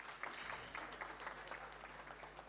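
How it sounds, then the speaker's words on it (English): Faint, quiet applause from a conference audience at the 12th Annual SME Conference & Expo, a brief, even rattle of clapping heard from a distance over low background hum. "Let's clap for her."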